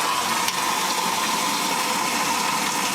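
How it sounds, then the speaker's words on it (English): Water rushes steadily and loudly into a vintage washing machine, a constant gushing fill without pauses or voices. "There we go, adding water in."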